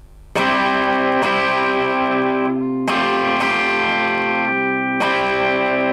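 An electric guitar with effects strums full chords, with a few plucked notes between, each chord ringing out sustained and bright.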